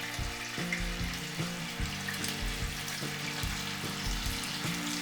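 Stuffed tofu deep-frying in a bath of oil at about 160 degrees, making a continuous close bubbling sizzle with small pops, heard alone without talk.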